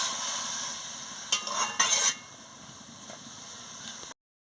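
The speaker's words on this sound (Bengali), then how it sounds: "পরিমাণ মতন জলটা দিয়ে দিচ্ছি, দিয়ে ভালো করে নাড়িয়ে নিচ্ছি।" Banana stem curry in a pan just after water is added, a soft steady simmer with a short burst of louder stirring and scraping midway, then fading to a quiet hiss before cutting off.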